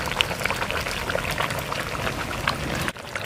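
Raw coconut oil is poured into a traditional village fish curry simmering in a pot, giving steady close bubbling and sizzling with a soft liquid trickle and a brief dip near the end.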